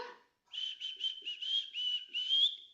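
A person whistling in imitation of an orange-billed blackbird's song: a clear, fairly close run of about seven short warbling phrases ending in a rising note, with a brief breath before it begins.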